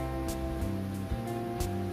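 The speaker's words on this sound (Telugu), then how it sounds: "సో ఇక్కడ ట్యాప్స్ అనేవి ఉంటాయండి" Water runs steadily from taps at a dargah's foot-washing area, a continuous splashing hiss with a few louder gushes, heard close by.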